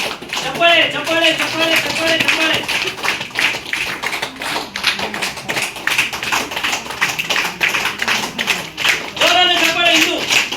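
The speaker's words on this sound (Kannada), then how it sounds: "ಚಪ್ಪಾಳೆ" A crowd claps loudly and continuously at a lucky draw event as a gold coin winner is announced, a dense patter of many hands with someone talking over it at the beginning and near the end.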